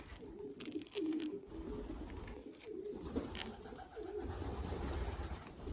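Racing pigeons in a loft give repeated low cooing calls over a steady background hum, fairly close and continuous with brief pauses.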